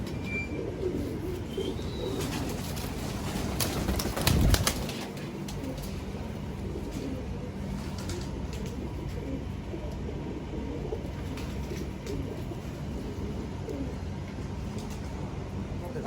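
Pigeons of old Indian breeds coo softly in a large loft, a low murmuring bed that runs steadily under a continuous hum, with a brief louder rustle or knock partway through.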